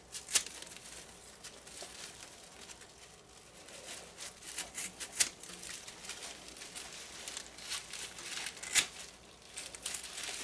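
Old lemongrass leaves are cut and pulled off the plant with soft, close, intermittent crinkling, rustling and snapping, quiet overall.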